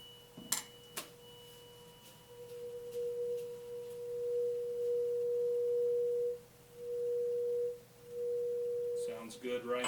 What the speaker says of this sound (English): We'll now do this for the musical note B. It is 480 hertz, 480.